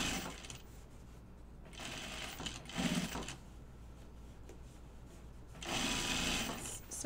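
A sewing machine stitches a hem on slacks, its needle chattering in fast, even bursts that start and stop, close and fairly quiet, with no talking.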